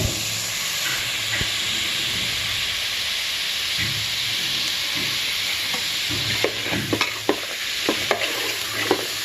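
Five or six green chillies sizzle and fry in a pan for chicken dum biryani, a loud continuous hiss broken late on by the clicks and scrapes of stirring.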